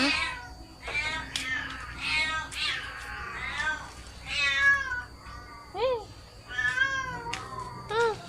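A cat meows repeatedly in short, rising and falling calls, close and fairly loud, alongside a voice speaking to it in a home setting.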